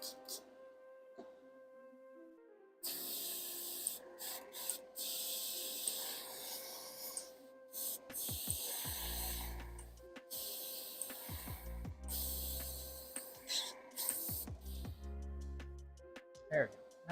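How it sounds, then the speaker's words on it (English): A paint sprayer hisses close by as it coats a 3D-printed Miles Morales Spider-Man figure. The hiss is harsh and steady, broken by short gaps and stop-start bursts, and a few low knocks come from handling. "Now it's spraying like a champ."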